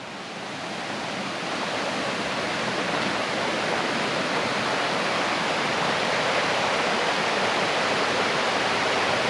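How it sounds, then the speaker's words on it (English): A river in Pictured Rocks on Lake Superior rushes in a dense, steady roar of flowing water, close and continuous throughout, with no voices over it. "We got the river right here."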